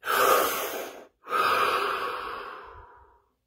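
Two deep, close breaths: a long, full inhale, a brief pause, then a slow exhale that tapers off into silence.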